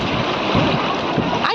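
Strong current of the Ganges at Rishikesh rushes and splashes steadily and close by, a continuous loud churning of water.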